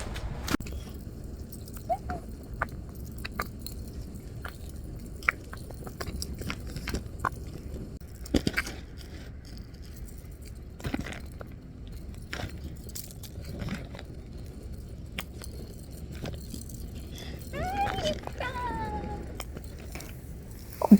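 A stray cat eats food at a neighborhood street feeding spot, with soft intermittent chewing and crunching up close against a quiet outdoor background, and a brief meow near the end.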